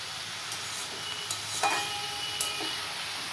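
Cabbage frying in a pan gives a steady, close hiss of sizzling oil, broken by a few soft clinks and scrapes of stirring.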